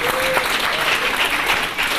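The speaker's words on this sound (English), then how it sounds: "Let us raise a cheer to Captain Crunch." An audience at a Hackers On Planet Earth 1994 conference session applauds loudly and steadily, dense clapping filling the room throughout.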